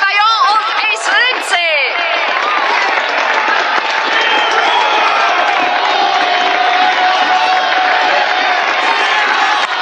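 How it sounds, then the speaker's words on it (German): A large crowd at a motor racing event applauds and cheers for two racing drivers, a loud, sustained roar of clapping and shouts that follows a few brief whooping cries at the start. "Applaus, meine Damen und Herren. Applaus für zwei der sportlichsten Fahrer."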